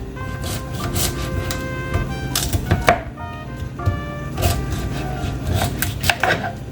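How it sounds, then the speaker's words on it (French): A kitchen knife dices sweet potato on a cutting board for carrot, sweet potato and zucchini soup, giving a steady run of sharp, close chopping knocks with clear pitched ringing between strokes. "On découpe aussi en dés."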